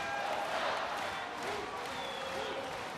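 Indoor volleyball arena crowd during a France–Poland international match, cheering and clapping as a serve is taken, a steady roar of many voices with a commentator talking over it.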